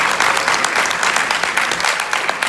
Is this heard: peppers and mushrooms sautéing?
no